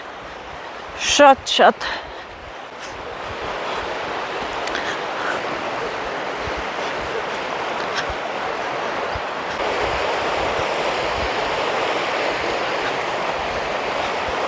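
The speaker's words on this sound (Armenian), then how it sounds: "գետի ձայնը ավելի է շատացել, ուժեղացել է, շատացել է ջուրը" A river swollen by floodwater rushes loudly in hilly countryside, a broad, constant roar of churning water that fills the whole scene. Someone talks briefly at the start, then the roaring water continues alone and grows slightly stronger.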